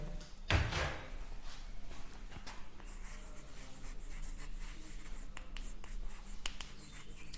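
A teacher writes on the board during an English grammar lesson, making a long run of faint, scratchy strokes and taps. One sharper knock comes near the start, and no one talks.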